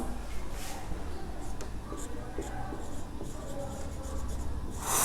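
Chalk or marker scratches out formulas on a classroom board in short scraping strokes, steady and close, with a lecturer's voice speaking quietly over part of it.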